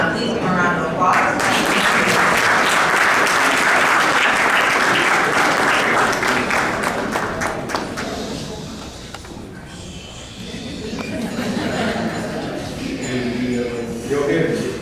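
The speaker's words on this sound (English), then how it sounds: "Please give a round of applause" A large gala-dinner audience claps loudly and continuously, dense applause that thins a little midway before swelling again, with cheers and chatter mixed in.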